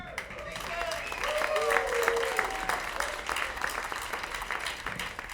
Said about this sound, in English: let's have a nice round of applause for Nathan Farmer!